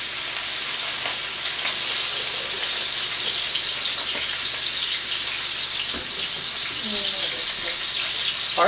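Seafood frying in oil in a pan, sizzling in a loud, continuous hiss with scattered pops and crackles throughout, with no voices heard over it.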